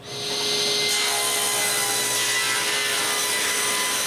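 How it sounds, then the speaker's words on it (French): A steady, loud power planer whines and rasps continuously across a glued-up wooden board, close up, with no pauses over several seconds. "Puis maintenant que la colle est sèche, je rabote un côté bien droit."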